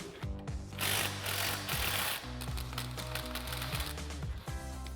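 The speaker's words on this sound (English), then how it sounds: "We're going to take our 18 millimeter wrench and our 18 millimeter swivel socket and remove these two." Sway bar end link nuts on a Jeep Gladiator JT come off with an 18mm wrench and swivel socket, a steady mechanical whir and rapid clicking run throughout, close and fairly loud, with a few sharp metallic taps.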